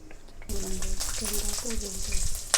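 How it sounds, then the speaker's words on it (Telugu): Green chilies hit hot oil in a kadai and burst into a sudden loud sizzle. The frying crackles on steadily with bright spitting pops, while a voice speaks briefly underneath. "ఇప్పుడు ఆయిల్ వేగాక ముందుగా తీసుకున్న పచ్చిమిర్చి వేసుకోవాలి."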